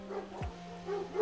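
Dogs give one short, faint bark in the distance, heard alone over a low steady hum.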